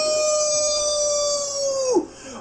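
A dog howls in one long, steady sustained note with strong harmonics, close and loud, that bends downward and breaks off near the end, with no talking over it.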